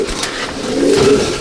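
A pigeon of an old Kaldama black-green breed in a loft coos nearby, a low rolling coo swelling through the second half, with faint background noise.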